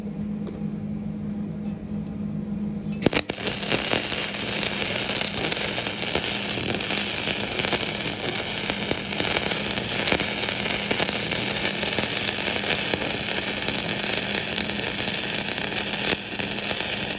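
Flux core gasless welding on square tubing joined to angle bar starts abruptly after a quiet moment, then holds as a loud, continuous crackling, sizzling hiss close by, with no voices.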